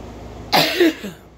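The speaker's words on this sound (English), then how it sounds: "I haven't been coughing as much lately" A single harsh cough bursts out close up from a man who has smoked many cigarettes, followed by a shorter rasping throat-clearing tail and then quiet.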